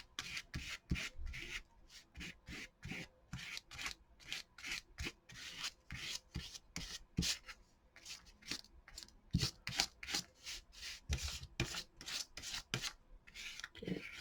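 Spatula spreading medium thin across an art journal page, quiet repeated scraping strokes in an irregular back-and-forth rhythm, close and soft with no talking.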